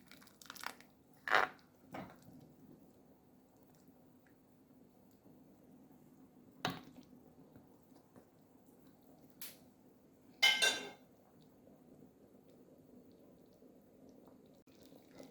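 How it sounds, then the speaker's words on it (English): Noodles dropped into a pot of Caribbean pumpkin soup, giving a few brief, quiet splashes and soft clinks spaced apart against a faint steady background hum. "So we are just going to put in our noodles right now."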